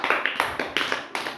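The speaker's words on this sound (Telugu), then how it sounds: "వెరీ గుడ్, క్లాప్స్ కొట్టండి." Children in a classroom clap their hands in quick, uneven bursts of sharp slaps, several claps grouped in a loose rhythm, close and clear with no talking.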